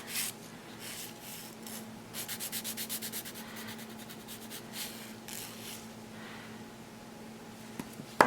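A nail file refines and smooths acrylic nails in quick rhythmic rasping strokes, some bursts faster and more regular than others, close and fairly quiet, with no talk.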